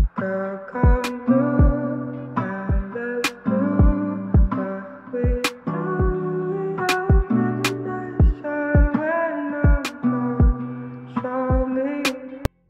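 A looped music sample plays steadily in GarageBand on iOS, sharp percussive hits punctuating warm layered chords in a regular rhythm, no voices.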